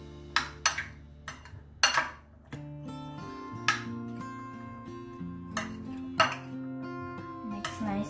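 Peanut chaat with lemon juice being stirred in a bowl: a few sharp clinks and scrapes of a spoon against the bowl, close and fairly loud, spaced irregularly over a steady hum.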